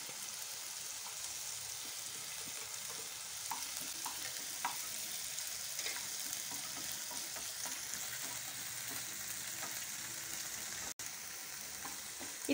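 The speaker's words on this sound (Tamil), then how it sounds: "இப்போ இஞ்சி பூண்டு இந்த சைடில் போட்டு வதக்கி எடுத்துக்கலாம்." Ginger and garlic sizzle and fry steadily in a pan for an egg gravy, with occasional stirring clinks over a continuous close crackle.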